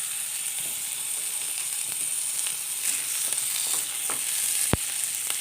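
Garlic cloves and slit green chillies fry in a pan, giving a steady, close hiss of sizzling oil with light stirring scrapes and small clicks, plus one sharp tap near the end and no voices.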